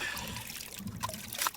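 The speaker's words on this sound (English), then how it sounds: "just pour the muddy water in there." Muddy water pours and trickles steadily for a moment, with small splashes and drips close by, during a reaction to a gun recovered after more than 100 days underwater.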